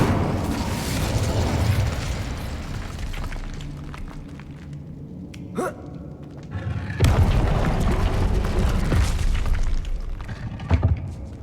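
A fiery Incendio spell bursts in Hogwarts Legacy, a loud booming blast with a rumbling low roar, then a second heavy eruption of flame a few seconds later, a sharp crack between them.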